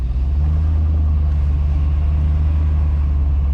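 Supercharged 50th Anniversary C5 Corvette idling nearby, a steady deep low rumble with a constant even drone throughout and no talk over it.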